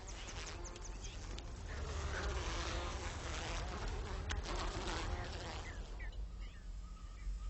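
Carnivorous wasps buzz continuously among insect hum at moderate volume, a dense steady drone that stays unbroken throughout, with brief sharper chirps near the end.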